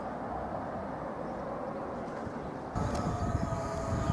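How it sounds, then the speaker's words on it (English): Class 66 locomotive 66733 hauling an intermodal freight from Felixstowe North Terminal to Hams Hall through Stowmarket station, a steady broad rumble of rolling wagons that grows louder with sharper rattling near the end. "66733 has just come through, hauling an intermodal train which is en route from Felixstowe North Terminal to Hams Hall."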